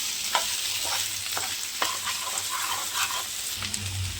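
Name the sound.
potatoes frying in a pan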